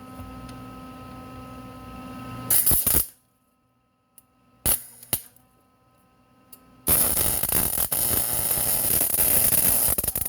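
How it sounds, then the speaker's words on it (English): Welding on a part from a vintage Canadien 187 chainsaw: a low electrical hum, then short sharp crackling bursts separated by near silence, followed by a loud, steady sizzling crackle that runs unbroken to the end, close by and with no talking. "There we go. That's a nice hot weld."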